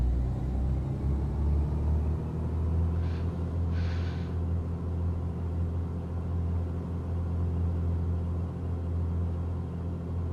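Steady droning engine rumble from a Beechcraft Baron running up to 1700 RPM in the Microsoft Flight Simulator 2024 game, a continuous low hum held at constant loudness throughout, with a couple of brief hissy bursts partway through.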